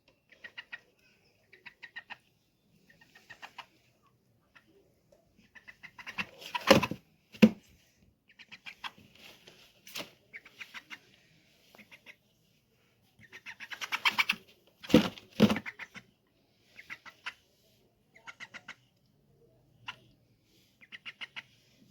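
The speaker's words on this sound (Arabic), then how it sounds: "هنبتدي نجيب الفراخ بتاعتنا نوزنها كده" Broiler chickens cluck softly and sporadically while being weighed on a scale, giving scattered short calls with a few louder bursts of flapping or scuffling in a quiet room.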